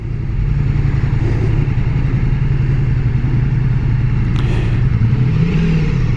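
A 2024 Honda Goldwing motorcycle engine droning steadily up close while riding, with a brief pitch rise near the end as it revs, loud and continuous.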